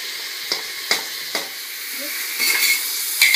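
Mutton pieces and onion fried in a pan for a stew, with a loud, steady sizzle and a few sharp scraping stirs early on, then a hiss that swells toward the end, close up with no speech.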